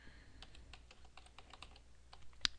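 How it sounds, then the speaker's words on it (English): Someone types on a computer keyboard into a Google search box, giving quick, faint, irregular key clicks close by, ending in one sharper tap, with no talk. "for this demonstration we are going to type in"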